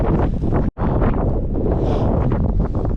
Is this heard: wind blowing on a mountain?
yes